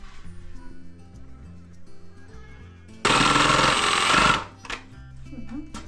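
A power saw cuts bathroom wainscoting in one loud burst of about a second and a half, standing out sharply against quieter background music and surrounding sounds.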